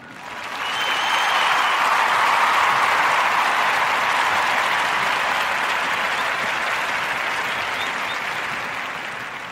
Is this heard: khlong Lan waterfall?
no